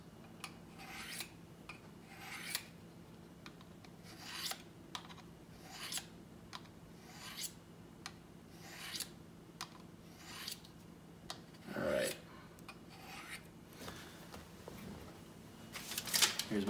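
Karambit knife blade being sharpened, a series of regular rasping strokes roughly every second, close and moderately quiet, with a brief louder scrape near the end.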